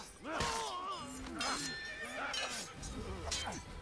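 A horse in the Assassin's Creed video game neighs and whinnies with rising and falling cries during combat, close and fairly loud, with faint clinks of swords mixed in.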